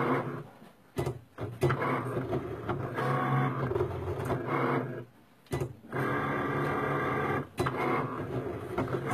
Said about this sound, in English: Right now it's just cutting our vinyl.